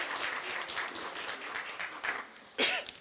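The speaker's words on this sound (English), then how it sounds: "Let's give the staff a round of applause." Faint, distant applause rises from the audience at a City of Santa Ana strategic plan community workshop, honoring the city staff. The clapping is soft and diffuse, with a brief cough standing out near the end.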